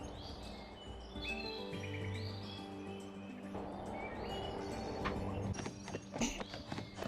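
Horse hooves clip-clop steadily in the Barbie: Wild Horse Rescue video game, a continuous rhythmic trot mixed with chirping birdsong and light game music, with no talk.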